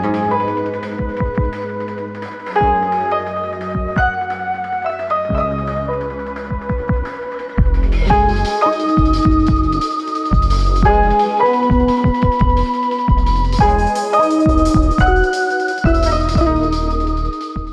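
A Keyscape piano plays alongside a mellow Moog synth lead, a Mellotron flute and a ceramic flute, a loud layered keyboard arrangement with chord stabs and a bass line entering fuller midway, no talking.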